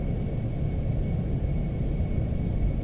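Airliner engines spooled to takeoff power in a flight simulator on runway 06, a loud, steady broadband roar with deep rumble held without a break.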